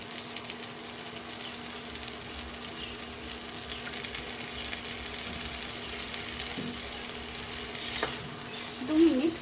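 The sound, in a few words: stirring and frying spice paste with potatoes in a pan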